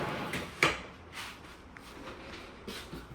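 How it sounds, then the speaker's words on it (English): A small utensil drawer above a dishwasher in an apartment kitchen slides open or shut with one sharp knock, then faint rattling and shuffling. The sound is quiet and close, with no talking. "I turned this empty gap into a small drawer for our utensils."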